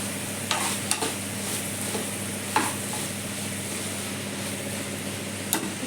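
Ground masala fries in oil for a cauliflower gravy, a steady close sizzle broken by occasional clicks and scrapes of a spoon stirring the pan.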